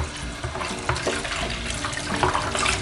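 Tap water runs steadily as a cloth face mask is rinsed under it in a sink, a close continuous splash with small shifts as the fabric is pressed in the stream.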